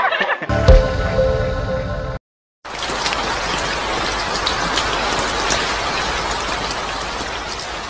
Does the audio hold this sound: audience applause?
no